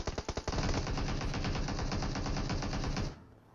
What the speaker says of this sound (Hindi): खैर यहाँ पे इनने खाम खा में गोली चलाई